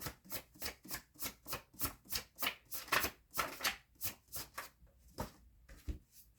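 Tarot cards shuffled in a quick, steady run of close, soft riffling flicks, about three per second, that slow and thin out near the end as a card is drawn.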